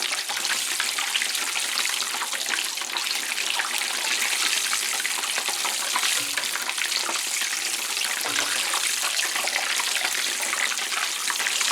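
Loud, continuous sizzling and bubbling of cheddar and mozzarella cheese sticks deep frying in hot oil, a dense crackling hiss throughout.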